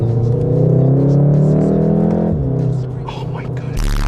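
A 2016 Volkswagen Golf R in race mode revs up with a rising exhaust drone that climbs steadily, then drops off sharply, while people talk excitedly over it.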